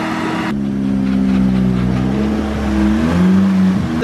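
A Nissan Sileighty's engine runs loud and close, holding a steady idle and then revving up briefly near the end, with no talking over it.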